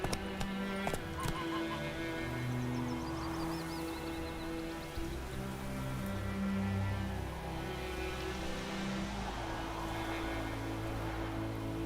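Roach, a horse in The Witcher 3, neighs and whinnies amid hoof clip-clops over steady game ambience and music, the calls close and clear.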